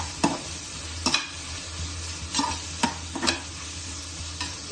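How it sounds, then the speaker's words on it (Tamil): Onions sautéing in a pan with garlic and curry leaves for a cauliflower kurma, a steady close sizzle with several sharp stirring scrapes at irregular intervals and no talking. "இந்த வெங்காயம் வதங்கிட்டு இருக்கும்போதே கொஞ்சம் பூண்டு சேர்த்துக்கிறேன்."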